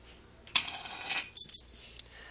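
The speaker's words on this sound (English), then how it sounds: "Let me get my keys." Keys jangle at a fire alarm pole station, a few bright metallic clinks and rattles in short bursts, fairly quiet in a still room.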